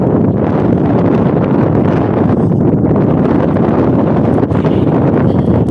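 Strong wind blowing across a hilltop in Newfoundland, loud and continuous, buffeting the microphone with a dense, roaring rumble and no pauses.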